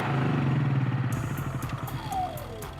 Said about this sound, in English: and then you come over to your generator, and then you go ahead and just turn it to the off position